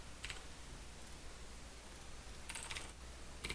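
A computer keyboard gets a few sparse, close keystrokes: a lone tap near the start, then a short cluster of clicks later, over a steady low background hum.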